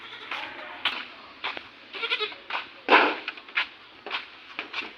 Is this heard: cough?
no